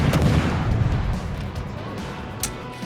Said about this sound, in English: I'll just add the guns to the mix again